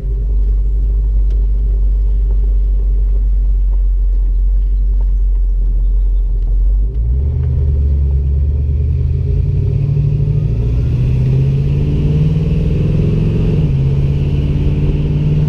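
A 1970 Ford Torino GT's loud, deep engine rumble idles, then revs and pulls away as the car drives, pitch rising and falling steadily.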